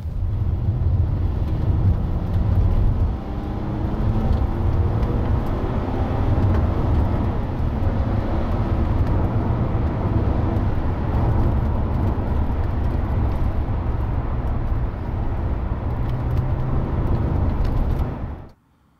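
A Toyota Alphard minivan accelerates hard in sport mode, a steady low engine and road drone with faint rising tones, heard from inside the cabin and sustained at even loudness before cutting off abruptly at the end.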